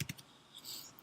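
A few quick clicks on a computer keyboard as a shortcut is typed, faint and close, followed by quiet room noise.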